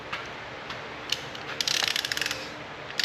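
A torque wrench ratchets on bolts of a 1936 tractor, giving close, quick runs of clicking pawl ticks in short bursts over a low background hum.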